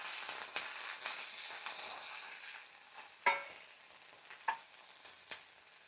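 Carrots and snap peas with pepper sizzling in a pan over an outdoor camp flame, a soft steady fry with a few sharp clanks and scrapes from stirring, fairly quiet and close with no talk.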